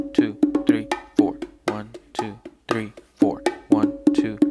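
Hands strike a pair of bongos in a steady, repeating combination, crisp close slaps and tones falling in an even rhythmic pattern throughout.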